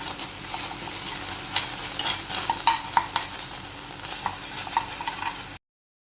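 Ginger-garlic paste frying with onions and curry leaves in a pan, a steady close sizzle broken by scattered sharp spits and pops and occasional stirring scrapes, with no talk.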